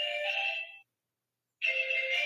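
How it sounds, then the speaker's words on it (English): A mobile phone rings loud and close during a live stream from the Florida Panhandle, with two electronic ringtone bursts separated by a short silence and no talk over them. "My phone's ringing."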